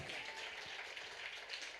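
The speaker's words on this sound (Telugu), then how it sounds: "కొట్టని చప్పట్లు గట్టిగా" Audience applause, a dense wash of many hands clapping at once, steady but fairly soft and distant.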